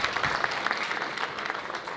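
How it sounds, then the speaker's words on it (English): Audience applause at a monthly wholesaling seminar: a steady round of clapping from a room of attendees, continuous and moderately loud for about two seconds with no speech over it. "just a round of applause for making the time, the sacrifice to be here"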